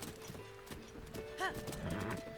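A horse in Breath of the Wild stands in the rain, with a few scattered hoof clops and a short snorting whinny midway, over a soft background of rain and ambience, lightly under a voice.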